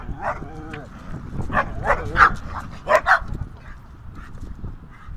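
A Malinois dog yaps and barks in short repeated bursts, close by, with a few whiny yips and some voices mixed in underneath.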